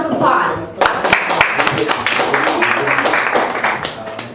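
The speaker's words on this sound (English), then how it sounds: "Let's give Boss a round of applause." Audience at an evening cooking demonstration breaks into a round of applause, fairly close and lively, with scattered individual claps and some voices mixed in.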